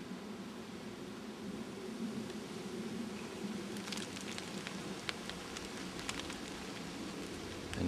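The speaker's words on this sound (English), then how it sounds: "And here comes the freezing rain." Freezing rain falls steadily outside a cabin during an ice storm on an island, a continuous close hiss with scattered sharper ticks and patters of drops striking surfaces, and no voices.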